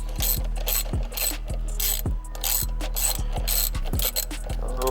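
Rapid, evenly spaced ratchet clicks up close as a bolt is screwed back onto a carbon fibre BMW steering wheel, a steady rhythmic run lasting several seconds with no talking.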